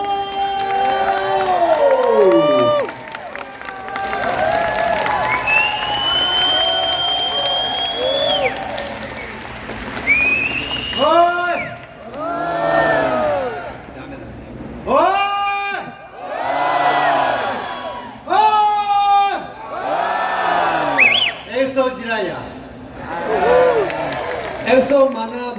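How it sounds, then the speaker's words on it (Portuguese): A crowd at an actors' appearance for a Jiraiya guidebook launch cheers, whoops and applauds in loud swelling bursts, with voices shouting over the clapping and an announcer's voice earlier. "Uma calorosa salva de palmas do Brasil mais uma vez para Takumi Tsutsui e Takumi Hashimoto!"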